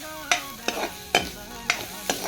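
Silkworm pupae are stir-fried in a pan with five evenly spaced scraping strokes of a spatula over a faint, steady sizzle. No one speaks.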